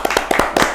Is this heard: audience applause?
yes